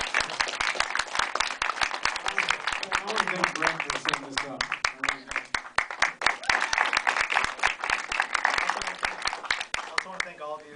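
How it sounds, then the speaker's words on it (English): Audience applause for the panelists at a Know Your Rights panel at the University of Montana in Missoula, a steady wash of many hands clapping throughout while someone speaks over it. "let's give them a round of applause for coming"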